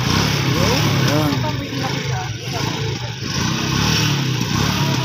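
A roadside motorcycle that has broken down runs loudly and continuously as it is revved to warm up, its engine noise filling the whole clip.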